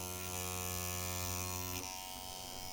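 A tattoo machine runs at 5.5 volts with the needle not catching, giving a steady, close electric buzz with strong harmonics that softens and roughens near the end, alone with no talk.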